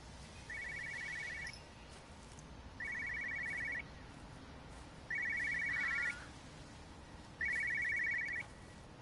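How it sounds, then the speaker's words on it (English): A telephone rings in the first-person game Everybody's Gone to the Rapture, near an observatory: four evenly spaced electronic ring bursts, each about a second long, clear and fairly loud over a quiet outdoor ambience. "I hear a phone ringing or something around here."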